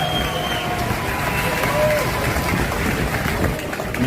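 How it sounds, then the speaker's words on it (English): Crowd at a championship boxing event in a Clearwater, Florida roadhouse applauding both boxers, a steady broad roar of clapping and crowd noise mixed with general hubbub and indistinct voices. "let's have a nice round of applause for both boxers, please"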